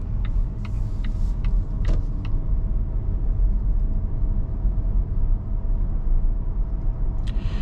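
Steady low road and cabin rumble from a 2024 Volvo S90 T8 Recharge plug-in hybrid sedan driving on a smooth road, with a few faint interior creaks and clicks early on and no talk.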